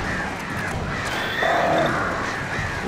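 Crows cawing in a video game, a few harsh calls over a steady game soundscape, with one longer drawn-out tone in the middle.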